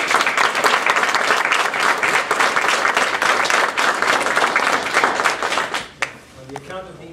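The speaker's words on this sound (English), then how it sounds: "Please give a round warm of applause for Mr. Keith Essex." A room of people at a Toastmasters district contest bursts into loud, sustained applause for a past district governor. The dense clapping lasts about six seconds, then quickly dies away, and a few faint sounds follow.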